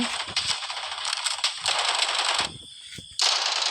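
Rapid machine gun fire in the shooter game Blood Strike, dense bursts of close, loud automatic shots with a brief pause before a final burst.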